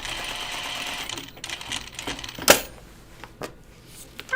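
A sewing machine stitches knit pajama fabric for children's pajama bottoms in a steady mechanical whir, broken by a sharp click near the middle and a few small knocks, close and moderately loud with no talking.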